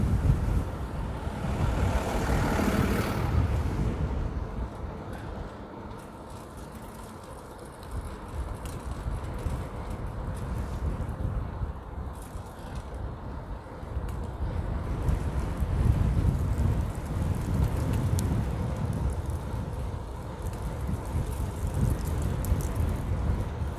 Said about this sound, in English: Man, it's windy. It's even pushing my front wheel.